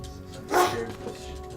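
A dog gives a single short bark or yelp at moderate distance, standing out briefly over quiet room background with faint traces of sound around it.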